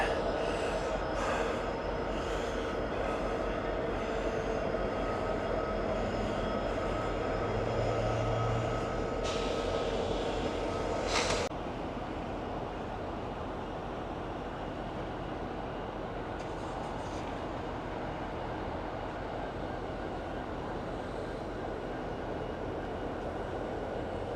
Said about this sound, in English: running the choo-choo, right?